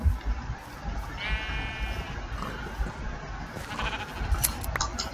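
Several sheep bleat at intervals in Minecraft, one drawn-out bleat standing out, over a steady outdoor game background with no talking.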